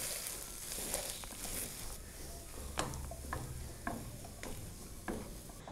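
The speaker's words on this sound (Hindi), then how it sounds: "आलू को हमने मैश कर लिया है" Spiced potatoes are mashed for a pinwheel samosa filling, heard as a series of soft, irregular thuds and scrapes from close by over a low steady hiss, with no talking.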